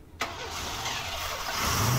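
A Chevy car with throttle body injection starts up and settles into a steady idle, the engine note rising from a brief crank into a continuous, even rumble that stays fairly close and grows slightly louder toward the end.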